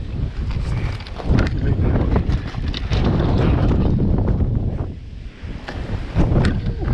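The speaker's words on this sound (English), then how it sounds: "Windy today." Wind buffets the microphone in loud, rumbling gusts that rise and fall throughout, with occasional knocks and rattles underneath, during an electric mountain bike ride.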